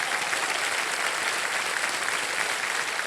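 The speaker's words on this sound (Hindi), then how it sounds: "एक बार तालियों के साथ उनका स्वागत करिएगा" Studio audience on a televised quiz show breaks into steady, dense applause welcoming a contestant, continuous and even throughout with no talking over it.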